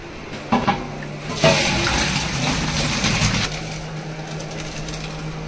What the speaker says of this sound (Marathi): आता पाणी सगळं या टोपात निघतला. रवतलो फक्त राईस.